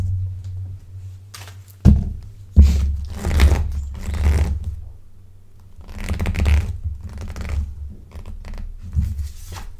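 Tarot cards are handled and drawn from a deck at close range: soft shuffling rustles, scrapes and a couple of sharp thunks of cards on a surface, in irregular bursts with no talking.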